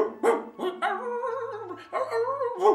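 An old, sad dog gives a string of short whimpering, yelping cries, close and clear, in uneven bursts with brief gaps between them.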